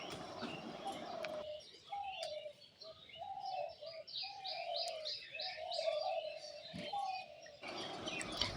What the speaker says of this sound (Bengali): সকালের এই পাখির ডাক শুনলে অপূর্ব শোনা যায়